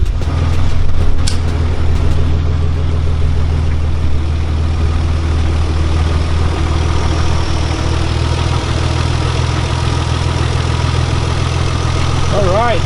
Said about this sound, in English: Alright, the engine sounds really good actually.